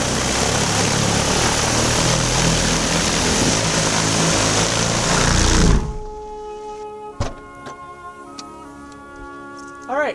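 The propellers of a DIY flying car spin at high speed during flight controller testing, giving a loud, steady whirring roar that cuts off abruptly about halfway through, followed by quieter ticks and a brief rising whine.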